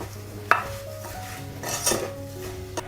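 Apple butter ingredients with cinnamon and lemon juice being stirred in a pot, a utensil clinking and scraping against the metal in a few sharp knocks and a brief rattle, close and moderately loud with no talking.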